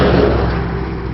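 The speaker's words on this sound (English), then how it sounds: "You can see there is quite a bit of traffic." Road traffic heavy with trucks headed to a landfill, a loud close engine roar of a vehicle passing by, rumbling steadily then easing slightly as it moves on.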